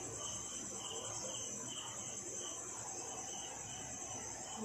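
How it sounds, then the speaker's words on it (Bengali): Crickets chirp steadily through the night at a constant level, a dense, continuous high insect trill with no pauses and no talking over it. "এমনিতে ঝিঝি পোকার ডাক"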